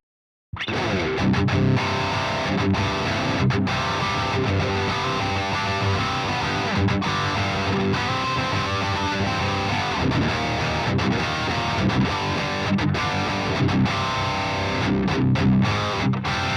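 Electric guitar played through the crunch channel of a Bogren Digital Trivium amp plugin, chords strummed continuously and loudly after a brief silent start, with no talking.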